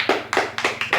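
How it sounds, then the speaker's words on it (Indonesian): Classroom applause for a student presentation group: a few brief, close claps in an irregular rhythm, about five sharp hand strikes in one second from a small group. "kita berikan aplaus dulu"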